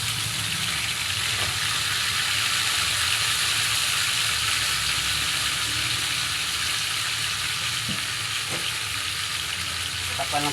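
Chicken feet sizzle steadily in hot oil in a pan for adobo, a dense, continuous frying hiss with faint clinks of a utensil now and then.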